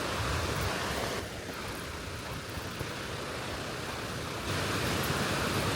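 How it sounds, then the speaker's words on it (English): A waterfall roars over rocks along a hiking trail, a dense, continuous broadband rush that stays steady and loud throughout with no talking. "The falls sound like they're roaring pretty good this year, not too full of water."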